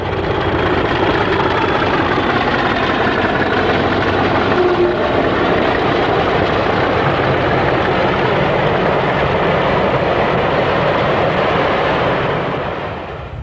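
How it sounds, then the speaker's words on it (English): A British Rail Class 40 diesel locomotive hauls empty newspaper vans from Cleethorpes to Manchester at Newmill South, a loud, continuous engine roar and rolling rumble holding steady before easing off at the end. "The same loco a couple of years earlier at Newmill South on a Cleethorpes to Manchester empty newspaper working."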